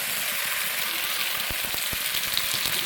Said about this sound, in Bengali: মশলাগুলো দিয়ে ভালো মতো আমি কষিয়ে নেব।